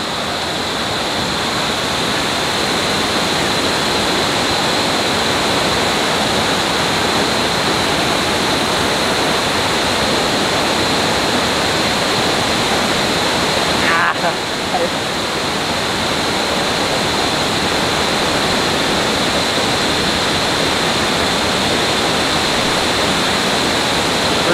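Mag Aso Falls waterfall roars in a loud, steady, close rush of falling water and mist, filling the scene without a break from start to finish.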